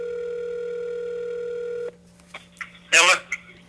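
Telephone cold call on a line: a steady dial tone cuts off, then short dialing blips and a burst of ringing or line noise follow, fairly clear with no talk over it.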